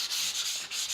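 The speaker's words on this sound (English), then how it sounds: "We'll use the sandpaper in this particular case." Sandpaper, P180 or P240 grit, rubbed up and down along the grain of wood: a close, steady scratchy rasp with brief dips between strokes, heard alone.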